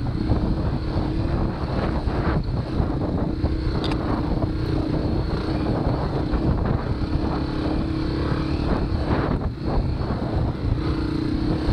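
Dirt bikes racing past in a sand hare scramble, a continuous droning mix of engines under heavy wind buffeting on the microphone, moderately distant, with no speech.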